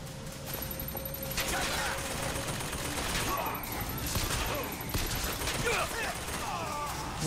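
Turret gunfire in the BioShock Infinite video game, rattling in repeated rapid bursts that blend into a dense, steady layer of in-game noise across the whole stretch.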